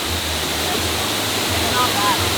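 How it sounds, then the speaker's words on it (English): A waterfall in the Colombian rainforest roars as a loud, steady wash of broadband water noise, constant throughout with no clear breaks. "There are several waterfalls like this in the area"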